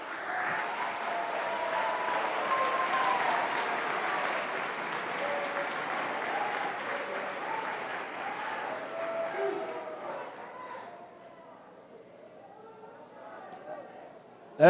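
A church congregation applauding during a December communion service at a cathedral, steady dense clapping with crowd voices for about ten seconds, then fading to sparse claps and murmurs.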